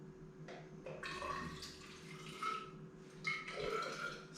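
Water is poured out to measure 100 ml for boiling while preparing a mead yeast starter, giving a close, splashy trickle in uneven bursts with short pauses.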